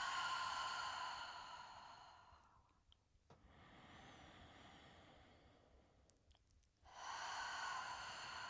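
Slow, soft breaths exhaled through the mouth during a pregnancy exercise session, faint and drawn out beneath a sustained ringing musical tone that fades out and returns.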